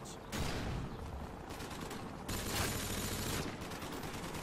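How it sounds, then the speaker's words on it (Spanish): Machine gun fire in Modern Warfare 2, sustained rattling bursts with short pauses between volleys, loud and fairly close over a busy game soundscape. "Está disparando a mi compañero."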